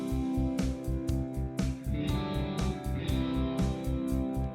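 Guitar playing a rhythmic, repeated chord pattern in the dominant Lydian mode of melodic minor, with steady strummed pulses at moderate volume and no talking.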